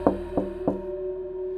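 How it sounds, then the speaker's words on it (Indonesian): Three sharp knocks on a door, evenly spaced, close and loud over a steady low hum, followed by quiet, as a horror-story sound effect. "Lalu suara ketukan lagi, kali ini dari sisi dalam, tepat di balik pintu yang sedang kutahan."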